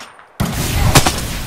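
Close, loud gunfire in Apex Legends bursting in abruptly after a near-silent moment, a rapid automatic stream of shots with one sharper crack standing out.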